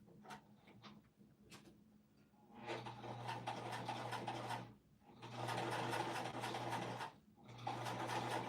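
Sewing machine stitching a fabric pouch, running in three steady humming stretches with brief pauses between, preceded by quieter handling sounds.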